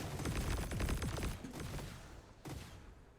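Rapid string of explosions from Ikora's spammed ability in a video game, a dense rattling burst that fades, then a single loud blast near the end.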